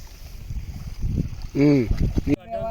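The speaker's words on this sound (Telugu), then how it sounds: "ఈ సౌండ్ వాటర్ సౌండ్ ఈ గాలి సౌండ్" Steady outdoor rush of flowing water and wind noise in a farm field, with a brief vocal sound partway through before it cuts off.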